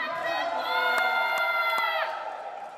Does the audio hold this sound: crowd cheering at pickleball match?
yes